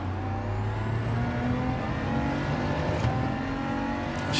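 BMW race car in Gran Turismo 7, its engine droning loud and steady with layered harmonic tones and a slight rise at the end, with no talking.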